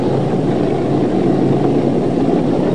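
A motorboat engine runs steadily at a boat's mooring, a loud continuous drone with no pauses.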